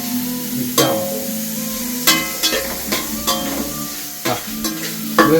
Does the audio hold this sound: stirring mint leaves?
yes